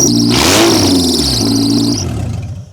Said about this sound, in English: I'm really curious to see how loud this thing's gonna be. So I'm gonna turn it on.